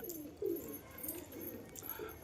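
Pigeons of a powder breed cooing nearby at a loft sale, a soft low coo rising clearly around half a second in, followed by quieter murmuring coos and light background noise.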